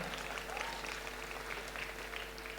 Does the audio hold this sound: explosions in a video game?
no